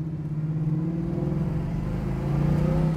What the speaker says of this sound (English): We get to go through the gears again.